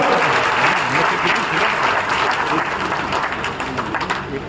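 Loud, dense applause from a large crowd at an outdoor political rally, sustained clapping filling the whole stretch with a few cheers mixed in.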